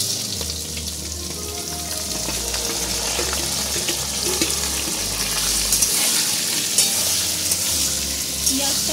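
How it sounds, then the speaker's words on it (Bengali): Onions frying in a pan with dry whole garam masala spices and bay leaves, a steady close sizzle with scraping and stirring sounds and a low rumbling underneath throughout, no voices. "পেঁয়াজটা ব্রাউন করে ভেজে নেব।"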